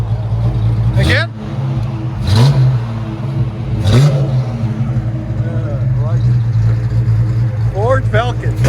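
A 1969 Ford Falcon inline-six with dual Flowmaster Super 10 exhaust idles loud and close, blipped through several sharp rising revs that fall back to a burbling idle, with voices nearby.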